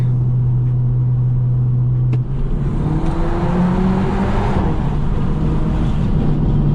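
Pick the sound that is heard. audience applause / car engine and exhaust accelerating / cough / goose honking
car engine and exhaust accelerating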